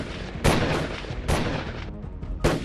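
Sharp gunshots crack out at intervals on a traffic-filled street in Subhash Nagar, Delhi, three loud reports with short reverberant tails and a quieter rattle between them.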